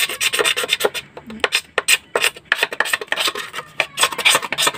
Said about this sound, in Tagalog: kakaskasin ko ng kutsilyo para matanggal yung makapal na plastic